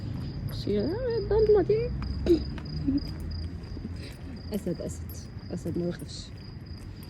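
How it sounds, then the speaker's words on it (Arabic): A field cricket chirps with a thin, steady high-pitched trill that carries on beneath people talking nearby in a kitchen. "اهلا يا صرصور، صرصور الحقل"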